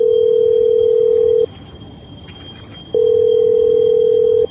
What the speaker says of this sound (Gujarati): કાળાને તો ફોન કરો.